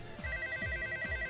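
A telephone rings in steady repeated bursts, close and clear, with an electronic tone held throughout and a low thump pulsing in rhythm underneath.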